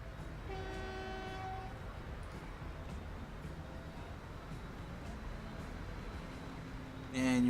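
A train in the Transport Fever video game rumbles along steadily, with a horn blowing a few drawn-out tones early on and another louder horn blast at the end, with no talk over it.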